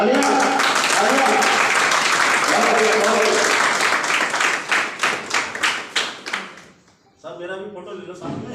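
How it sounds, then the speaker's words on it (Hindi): Audience applause at a public gathering, a thick burst of clapping that thins into scattered individual claps before dying out, followed by talking. "तालियां तालियां"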